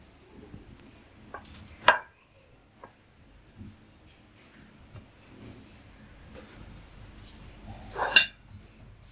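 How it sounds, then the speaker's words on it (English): Ingredients with methi and curd are stirred together in a bowl: scattered soft scrapes and taps with two sharper clinks of utensil against the dish, close and otherwise quiet. "Now we have to mix it."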